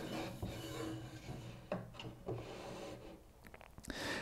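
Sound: wooden foot rung sliding into climbing frame sides

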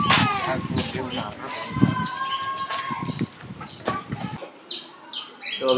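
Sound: chickens clucking, hens going home in rain

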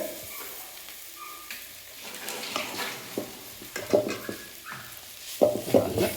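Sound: sautéing ginger garlic paste in a pan

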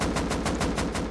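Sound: gunfire in the video game Rust

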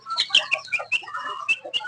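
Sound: chicken clucking

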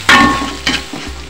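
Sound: spice paste stir-frying in hot oil

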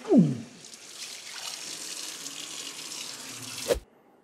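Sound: tap water rinsing out a squid

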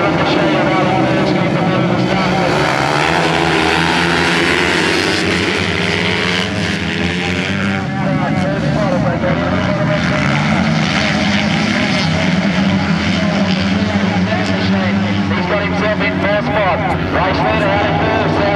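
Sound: racing motorcycles speeding around the track

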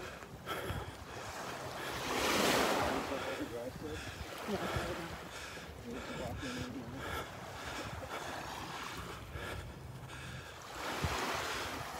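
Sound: small ocean waves breaking on a sandbar at the beach

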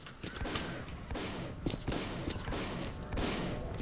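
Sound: gunshots in a video game

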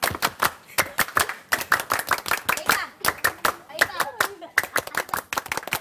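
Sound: Scouts doing the rhythmic scout clap (tepuk pramuka)

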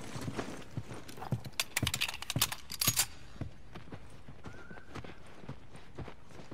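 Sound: horses clip-clopping in video game

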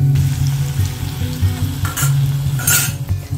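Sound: makhana (fox nuts) frying on low flame until crisp

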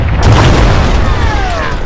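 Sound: explosion destroying a Tunguska anti-air vehicle in a video game

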